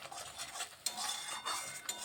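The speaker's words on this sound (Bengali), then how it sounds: "ভালোভাবে আবারও কষিয়ে নিচ্ছি।" A spoon scrapes and stirs winter vegetables with sambar masala frying in a pan, steady sizzling under repeated metallic scrapes and clinks, close and without talk.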